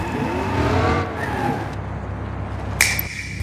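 A car in a driving game rolling into a garage, a steady engine drone fading down, then a short sharp clunk near the end.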